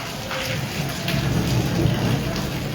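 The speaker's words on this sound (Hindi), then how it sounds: "थोड़ी फुहारी जैसी बारिश है और हवा तेज" Steady rain and gusting wind over an open wheat-field area during a thunderstorm, forming a continuous broadband wash with low rumbling underneath; no voices, fairly loud throughout.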